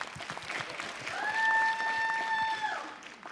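Applause from a stand-up comedy show audience, moderate clapping that builds and holds steadily, with a sustained tone sounding over it midway before the clapping tapers off.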